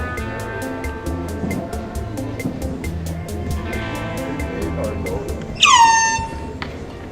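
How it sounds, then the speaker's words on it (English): A loud air horn blasts once from a prank can hidden in a trash can, a sharp honk lasting about a second over steady outdoor background noise. "We're gonna go ahead and have Gilbert in the trash can hiding with the air horn."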